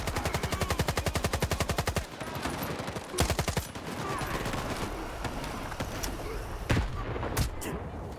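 Rapid automatic gunfire in the Stalker 2 video game, aimed at a poltergeist: a fast steady burst up front, then further bursts and scattered shots over a dense game ambience, loud and close.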